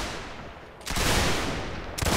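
Musket volley in the video game Mount & Blade Warband, North & South mod: a dense burst of overlapping gunshots erupts at once and rolls on, followed by a second sharp crack near the end, loud and with no talk.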